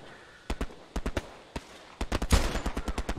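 Machine gun fire in the World War II shooter Hell Let Loose: short rapid bursts of gunfire, first in separate groups of shots, then a longer, steady stream of rounds, loud and fairly close.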